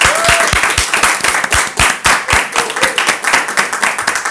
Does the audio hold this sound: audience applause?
yes